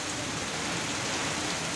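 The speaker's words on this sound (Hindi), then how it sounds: "बारिश तो मुसलसल होती जा रही है और पानी भी भरना शुरू हो गया।" Heavy monsoon rain pours steadily outdoors in June or July, a dense, loud, unbroken hiss of drops on surfaces with no voices heard.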